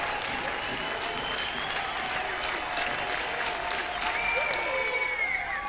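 A stadium crowd at an Oklahoma versus LSU college softball game roars with sustained cheering and applause, a whistle or shout rising near the end, with faint talk underneath.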